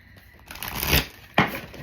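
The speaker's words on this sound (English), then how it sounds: "Ooh, these cards is like they don't want to shuffle." A deck of oracle cards is shuffled by hand, with two quick riffling bursts, close and fairly soft.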